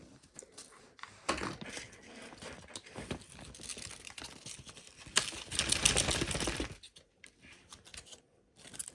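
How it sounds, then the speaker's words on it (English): Cellophane wrapper on a Mezco G.I. Joe Storm Shadow figure being handled, bursts of close, sharp crinkling and crackling with short pauses between them, the densest rustle near the end. "It's a little cellophane wrapper."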